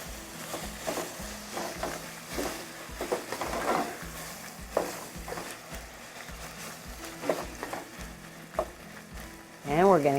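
Chopped tomatoes hit a hot pan of sizzling garlic for Pollo Aguascalientes, a continuous frying hiss with scattered crackles and a few stirring knocks while a voice talks over it.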